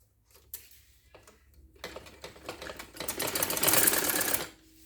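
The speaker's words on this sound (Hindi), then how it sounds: "अब ये हम सिलाई करने जा रहे हैं।" Sewing machine stitching piping onto a girls' trouser, starting with a few hesitant clicks, then building into a rapid, close, rattling run of stitches that stops abruptly, no talk over it.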